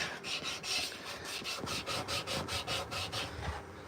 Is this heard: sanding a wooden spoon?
yes